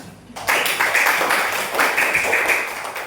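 Classroom clapping fills the space from about half a second on: a dense, steady patter of many hands from students and a teacher, fairly close and loud, with no talk over it.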